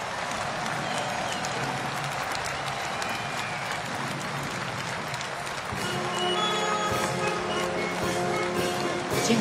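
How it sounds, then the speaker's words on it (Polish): Crowd applause at a Polish Armed Forces Day military parade, steady and broad throughout, growing louder in the second half, with a tonal hum or music underneath. "Może jeszcze raz wielkie brawa"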